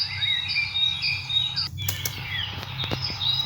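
Birds chirp and tweet in bright repeated calls, joined midway by a few sharp bursts of flapping wings close by, with no voices.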